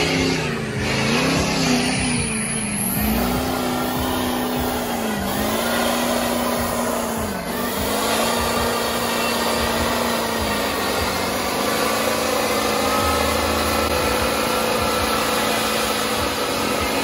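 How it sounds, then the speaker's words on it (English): A heavy truck engine roars at full throttle during a truck tug-of-war competition, loud and continuous, its pitch wavering as it strains steadily under load. "Drop the hammer, Austin."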